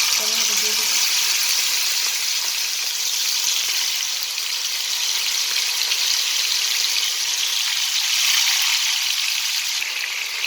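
Chicken for a restaurant-style chicken fry sizzles in hot oil, a steady broadband hiss holding at an even level through the whole stretch with no talk over it.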